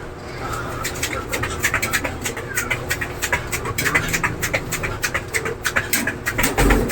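Heavy, rhythmic panting during a strenuous workout, quick breaths repeating steadily and fairly close, with faint bird chirps and background noise behind them.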